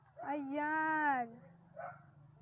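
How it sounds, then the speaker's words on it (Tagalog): A dog outdoors gives one drawn-out whining bark followed by a shorter yip, close and fairly clear against a low steady hum. "Ang ingay ng mga aso sa labas."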